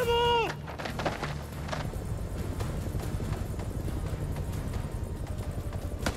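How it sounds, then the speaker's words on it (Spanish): A mountain goat runs down a hill in House of Ashes, its rapid hoof clatter forming a steady galloping rhythm over a low rumbling game backdrop, preceded by a brief falling electronic tone. "Ahí va el tío bajando la colina, es una cabra montesa"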